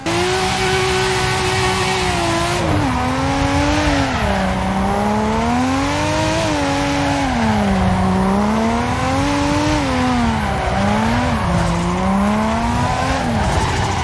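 A car drifting in the Assetto Corsa driving simulator, its engine revving loudly and continuously with pitch that swoops up and down through gear changes and slides, tire squeal mixed in, close and without talk.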